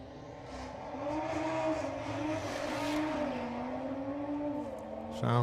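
Will Ferguson's Audi at a drag strip test day, a strained engine note rising and holding in a long pull, heard from a moderate distance over open-air background, with a sharp burst at the end.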